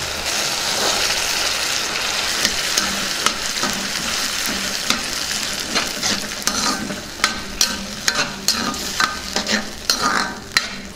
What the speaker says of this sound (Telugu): ఇప్పుడు పచ్చి బఠానీ వేసుకుందాం